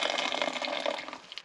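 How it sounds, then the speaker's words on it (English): Water poured in a steady, splashing stream into a cooking pot for porridge, close and fairly loud, tapering off near the end of a short burst. "Put a lot of water."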